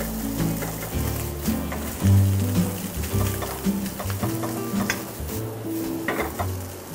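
Rice, egg and ham stir-fry in a pan, sizzling close up with repeated scraping and clacking of a spatula in uneven strokes, no speech.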